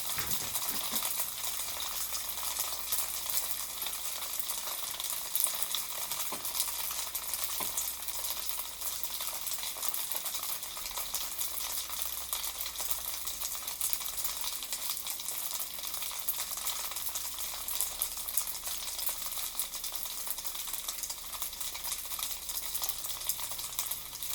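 Hot oil sizzles and pops in a pan during breakfast cooking, a steady faint hiss broken by scattered small crackles and pops over a long stretch, with no voices.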